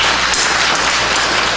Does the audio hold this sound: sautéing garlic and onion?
no